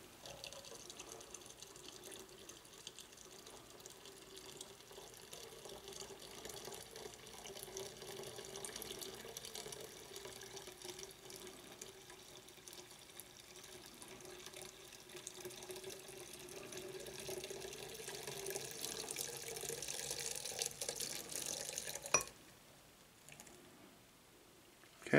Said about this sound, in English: Now I'm going to fill it up, and I want to fill it up nearly to the top. And this is cooled boiled water.